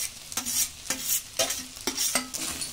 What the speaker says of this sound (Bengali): এটা দিয়ে খুব সুন্দর করে মাখিয়ে নেব।